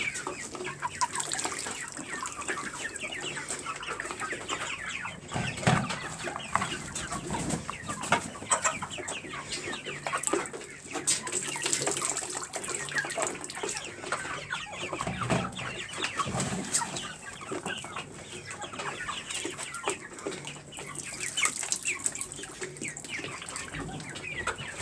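A flock of backyard chickens kept for meat clucks and chatters continuously, with overlapping calls at moderate distance and steady farmyard background noise, without talk.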